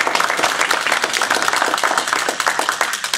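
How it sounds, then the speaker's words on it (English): Loud, dense round of applause from the audience at a Toastmasters humorous speech contest, honoring the evening's helpers with a steady wash of many hands clapping close by for a few seconds. "let's give them a round of applause"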